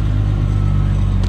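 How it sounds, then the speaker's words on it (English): A truck's Jake brake engaged on the road gives a loud, steady low engine rumble with a throbbing, buzzing tone that holds constant throughout. "Little Jake brake action today."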